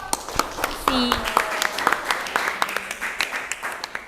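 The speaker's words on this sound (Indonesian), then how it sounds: "Beri tepuk tangan dong." A classroom of students gives a short burst of scattered applause after a group discussion, with some speech mixed in around the clapping.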